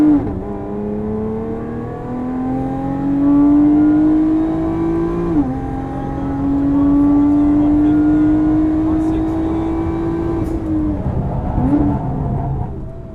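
A Lotus Evora 400 is driven hard around a race track in Dubai, its engine loud and close with rising revs, a sharp drop at a gear change and a lift near the end, with talk over it.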